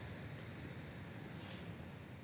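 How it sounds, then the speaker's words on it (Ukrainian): Steady broadband wind rushing against the microphone in a strawberry garden plot, continuous and fairly quiet, with a low rumble and no voices. "Вітер дує."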